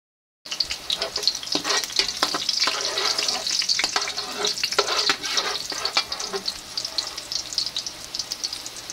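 Meat sizzles and fries in a generous amount of cooking oil for pansit, with steady crackling broken by stirring scrapes and clatter; close up, no voices.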